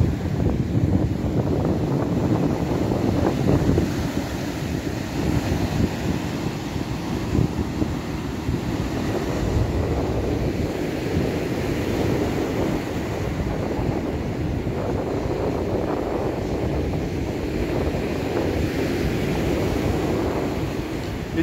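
Wind and sea waves at an evening seaside embankment, a continuous rumbling wash of wind buffeting the microphone with the surge of water beneath it, steady and loud throughout.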